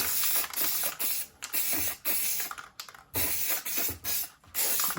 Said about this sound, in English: our adhesive for the back part, just want to kind of spray everything down.